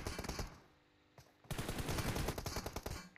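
Gunfire in a competitive shooting game match, rapid automatic bursts of close, loud shots, a brief burst, a short lull, then sustained fast firing to the end.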